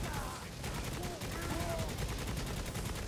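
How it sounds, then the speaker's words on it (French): Rapid automatic gunfire rattles in dense bursts in the video game Necromunda: Hired Gun, close and loud for the whole stretch. "Fallait que je tire là-dessus."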